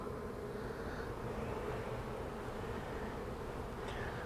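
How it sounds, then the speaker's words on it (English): A dense swarm of honey bees buzzing over a hive frame, a loud, steady, close droning hum that fills the whole stretch without pause. "When I pull this up, it's just a huge biomass of bees just fall off."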